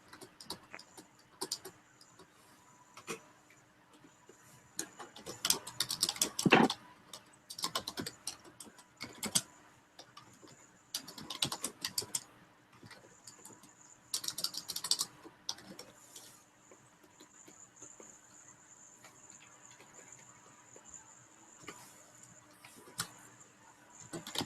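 Rapid clicking of keys on a computer keyboard, typed in uneven bursts with short pauses, close and fairly quiet, with no talking.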